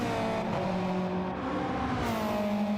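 A car engine hums steadily in the background, its tone rising and falling gently as it revs, with no other sound over it.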